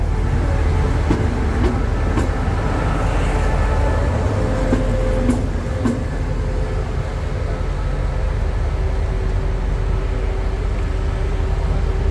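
A GEK diesel locomotive, number 4031, rolls past on a Thai railway with a steady heavy rumble and faint rail clatter, loud and continuous throughout, with no talk.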